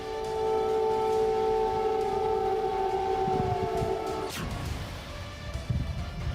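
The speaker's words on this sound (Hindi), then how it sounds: "सोमवार की रात कीव में अलर्ट सायरन की आवाज गूंजने लगी" A loud air raid siren in Kyiv wails with steady sustained tones, then cuts off abruptly, leaving a low rumbling background and faint distant noise.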